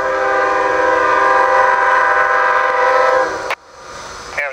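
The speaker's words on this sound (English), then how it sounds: "Amtrak 19 westbound." An Amtrak 19 westbound passenger train sounds its loud, sustained multi-tone horn close by for about three seconds, which cuts off abruptly and leaves rumbling rail noise with a brief final horn blip.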